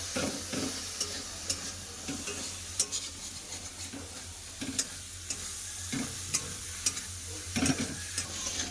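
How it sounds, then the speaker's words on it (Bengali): Fried potatoes are stirred into spiced masala in a pan, with soft continuous sizzling and repeated clinking scrapes of a spatula at irregular intervals, no talking. "ভাজা আলু দিয়ে দেবো আলু ভালো করে কষে দেবো"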